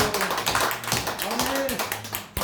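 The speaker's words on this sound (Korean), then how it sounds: "우리 2022년도 대망의 해를 축하하는 박수 한번" A church congregation at a New Year's Eve service in Gangseo, Seoul claps to welcome 2022. Quick, scattered hand claps patter steadily beneath a voice talking over them.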